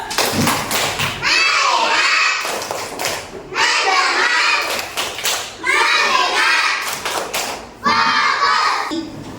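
Schoolchildren in a classroom perform a rhythmic clapping chant in unison, repeated loud bursts of clapped beats interleaved with their chanted voices, close and energetic.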